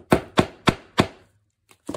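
A hammer driving a rivet cap into a handmade book or journal cover, four sharp, evenly spaced close knocks followed by a pause and two lighter taps, with no talking.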